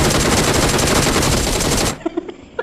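Sustained automatic gunfire from the mobile battle-royale game PUBG Mobile, loud and continuous for about two seconds, then cutting off into a few scattered single shots.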